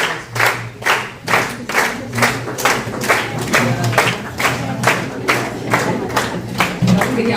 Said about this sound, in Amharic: ሞቅ ባለ ጭብጨባ ተቀበሉኝ።